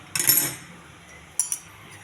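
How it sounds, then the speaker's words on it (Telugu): A pan is set on a stove while a coconut and peanut chutney is being made, two light metallic clinks a second apart, close and brief, in a quiet kitchen. "పెనం పెట్టాను స్టవ్ మీద."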